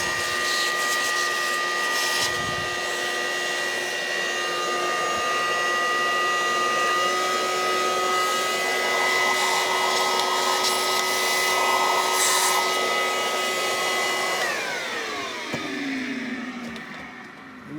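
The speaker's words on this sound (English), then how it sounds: "Let me get my vacuum here." A vacuum cleaner drones steadily and loudly in a cast iron workshop, its even whine holding for most of the run before winding down near the end, with no talking over it.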